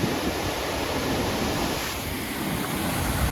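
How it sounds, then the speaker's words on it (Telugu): Steady broadband roar of the Nanamenachi waterfall heard from a trekking viewpoint, a continuous close rushing wash of falling water with no talk over it. "సో ఇది ఫస్ట్ వాటర్ ఫాల్"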